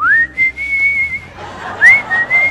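A person whistles a melodic tune, clear and close, in two sustained phrases with a short pause between them, over faint background crowd noise.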